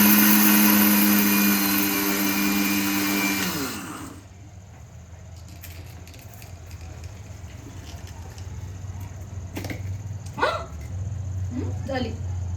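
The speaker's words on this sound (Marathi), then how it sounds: "सो आम्ही आता मिक्सर मध्ये हे ग्राइंड करतोय." A kitchen mixer grinder grinds sugar with a loud, high whirring roar for about four seconds, then cuts off, leaving quieter room noise with a few faint sounds.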